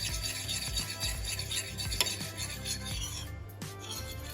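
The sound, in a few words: stirring a sauce with a little boiling water in a pot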